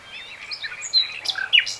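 A blackbird sings near a boat drifting on a river, a run of bright, varied warbling phrases and chirps, fairly close and alone over a faint low hum.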